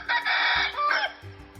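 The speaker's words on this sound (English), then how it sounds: "Rooster," A rooster crows once, a loud, close cock-a-doodle-doo with a harsh, rising-then-falling call lasting about a second, followed by a brief low thump and quieter tail.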